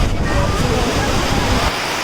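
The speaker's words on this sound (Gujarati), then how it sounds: "બહુ ખતરનાક વાવાઝોડું પવન છે" Heavy rain and strong storm wind roar outdoors at Omkareshwar as a loud, continuous broadband rush with no letup, easing slightly near the end.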